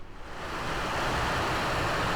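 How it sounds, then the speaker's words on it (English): Sine wave fed through a distortion pedal, producing a steady, dense buzzing hiss that fades in over the first half second and then holds constant and fairly quiet, with no voices. "So it's just a sine wave going through that distortion pedal."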